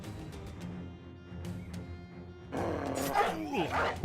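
A video-game dog attack with snarling barks and growls. The dog erupts loudly in the second half after a quieter stretch with a few sharp hits.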